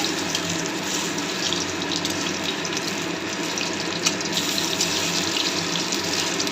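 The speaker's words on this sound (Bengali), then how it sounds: "মুইঠাগুলো একটু লাল লাল করে ভেজে নিচ্ছি" Muitha dumplings deep-fry in oil, producing a dense, steady hiss and bubbling that stays loud and unbroken throughout.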